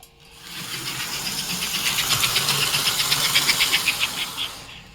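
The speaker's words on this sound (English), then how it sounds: "Smoke unit is behaved at slow speeds and ridiculous at high speeds." Toy steam locomotive, a 1953-1957 American Flyer #283 Pacific, running with its smoke unit going: a steady close hiss and motor whir that swells in volume, with rapid rhythmic chuffing pulses building toward the end, no talk.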